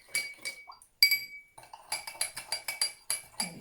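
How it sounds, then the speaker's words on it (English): Spoons clinking against several glasses of dissolving sugar solution, a quick series of bright, close metallic chinks in short bursts with brief pauses, no talking. "So just stir each one really thoroughly."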